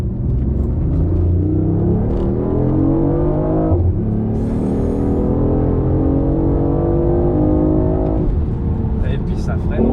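A BMW i8 hybrid sports car drives and accelerates, its engine rising and falling in pitch through repeated gear-like sweeps, loud and close, while people talk over it inside the cabin.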